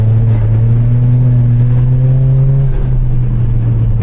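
A Toyota GR Corolla's three-cylinder engine pulls hard under acceleration, a loud, close, steady drone whose pitch climbs and then shifts with a gear change, without any talking.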